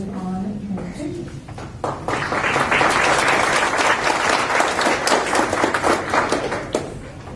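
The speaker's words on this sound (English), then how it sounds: "thank you for the applause" An audience at a community school and family engagement meeting breaks into steady applause after a short spoken introduction, the dense clapping holding for several seconds before easing slightly.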